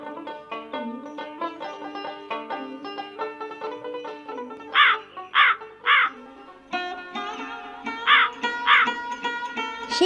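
A crow caws several times, harsh calls in short bursts standing out over a steady background of tonal music, fairly close and clear.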